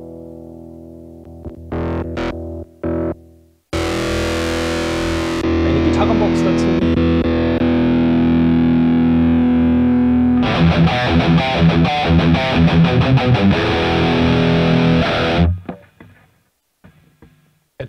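Electric guitar played through a Mooer GE 200 multi-effects unit with an amp model selected, heavily distorted chords and sustained ringing notes, then a burst of fast choppy strumming before cutting off.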